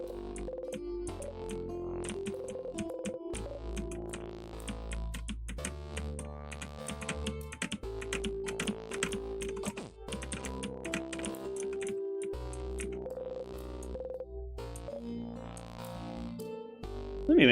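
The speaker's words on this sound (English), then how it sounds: "Let me make it so you're not hearing every keyboard click." Computer keyboard keys click rapidly and continuously during typing, with dense bursts of crisp taps over a soft musical tone, close and clear with no talking.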